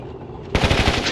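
Rapid machine gun fire while strafing in the game Warzone 2100 bursts in suddenly after a quiet moment, a loud, fast rattle of shots.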